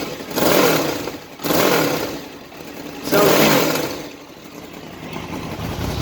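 A Honda VFR800 four-cylinder motorcycle engine fires up and revs in three strong surges that rise and fall, then settles into a steady, fairly loud idle close by.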